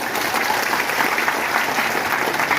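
Audience at a college freshers' welcome gathering clapping hands, a loud dense continuous patter of many palms held at an even level throughout.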